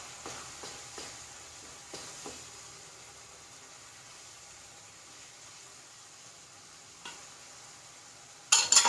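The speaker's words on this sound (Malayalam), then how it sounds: "ഇനി നമുക്കിതിലേക്ക് നമ്മൾ വറുത്ത് വെച്ചിട്ടുണ്ടല്ലോ ചെമ്മീൻ, അതങ്ങോട്ട് ഇട്ട് കൊടുക്കാം" Fried prawns are tipped into a pan for a prawn roast, giving a soft continuous sizzle broken by a few light taps of stirring and a louder scrape of the spoon near the end. No one speaks.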